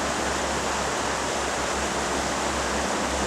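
A small creek in the California woods runs swollen after unseasonal June rain, giving a steady, broad rushing wash that stays even and fairly loud throughout, with no voices.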